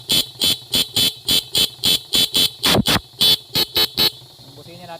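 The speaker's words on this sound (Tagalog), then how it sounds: "Testing natin gamitan ng busina." A Suzuki Smash motorcycle horn beeps in a rapid string of short, loud honks, evenly spaced and close by, with a brief pause near the end.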